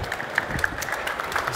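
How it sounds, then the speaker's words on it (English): Steady clapping from an audience, a dense continuous patter at moderate volume with a few sharper claps standing out. "One big round of applause to Antonio, Karthik, and Juan."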